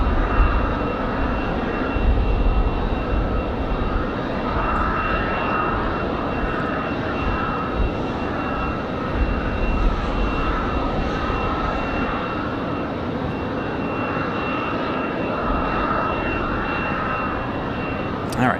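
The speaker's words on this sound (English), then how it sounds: "JetBlue 2485 coming in from JFK, New York." A JetBlue airliner arriving from JFK at Raleigh-Durham airport gives a continuous broad jet-engine roar, loud and steady throughout, with wind noise in the background.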